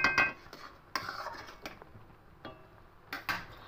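Sugar and coconut cooked on high heat in a pan: a spoon scrapes and clinks against the metal in sparse, irregular strokes, quiet and close, with no talk.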